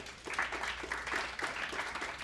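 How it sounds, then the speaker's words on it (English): An election night crowd at a Montgomery Democratic Party event gives quiet, fairly distant applause, a soft, even patter of clapping lasting a couple of seconds. "I want everyone to give yourself a round of applause"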